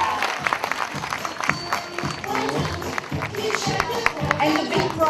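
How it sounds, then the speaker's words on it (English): Scattered audience clapping for a prize winner at a science olympiad closing ceremony, moderately loud and uneven, with brief voices mixed in over the applause. "Can you please applaud for him?"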